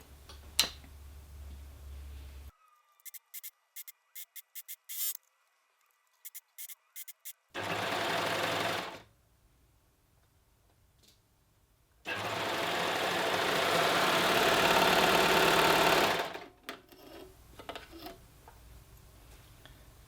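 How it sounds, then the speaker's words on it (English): A domestic sewing machine stitches dress panels together for a tiered dress, running in close bursts of rapid ticking, first short stop-start runs, then two longer steady runs, with no talk. "I'm just going to sew the other panels together"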